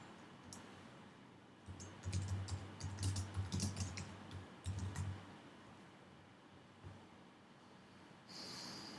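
Typing a page name on a computer keyboard, a quiet, close burst of rapid key taps lasting a few seconds, then a pause and a few more clicks.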